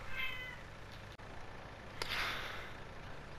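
A pet cat meows twice indoors, a drawn-out nearby meow followed by a second rising one, alone over quiet room tone.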